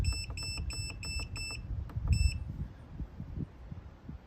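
A DeWALT jump starter power station's tire inflator beeps while its PSI is set: a quick run of about six sharp, high electronic beeps, then one more after a short pause, over a low background rumble.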